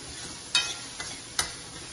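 Onions fry in a pan for a palak paneer dish, with a steady low sizzle and a few sharp stirring scrapes breaking through.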